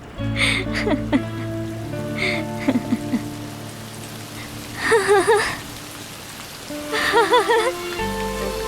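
Steady rain falls as a soft, continuous hiss beneath gentle music, with a few short vocal phrases drifting in and out over it.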